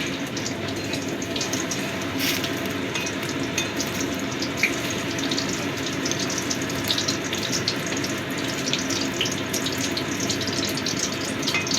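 Paneer pieces frying in a pan give a dense, continuous crackling sizzle that stays loud and even throughout, with no voices over it.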